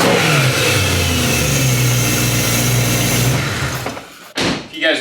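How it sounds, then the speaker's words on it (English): A BMW E90 M3's S65 V8 running with the intake manifold removed and the throttle trumpets exposed, revving loud and raspy up close for about four seconds before dropping off abruptly. "that's what an S65 sounds like with no intake manifold on"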